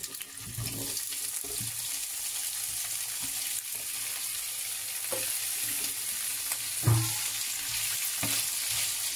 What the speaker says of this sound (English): Now after my oil is ready, I'm going to go ahead and add in our sausages.